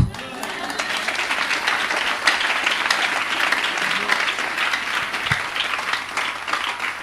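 Church audience stands and applauds a reverend's arrival, with sustained loud clapping and crowd cheering filling the space throughout.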